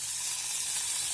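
Chopped potato hitting hot oil in a frying pan for an egg and vegetable omelette, giving a steady, close sizzle with a soft hiss that stays even across a brief moment.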